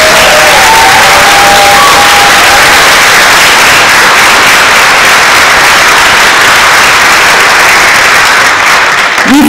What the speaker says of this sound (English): I think we need to give the first violins an extra round of applause.